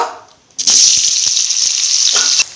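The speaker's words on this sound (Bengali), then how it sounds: "তেল গরম হয়ে গেছে এবারে আমি পনিরগুলো ভেজে নিব" Paneer pieces go into hot oil, and after a brief quiet moment a loud, bright sizzle bursts out close by, holds steady for about two seconds, then cuts off.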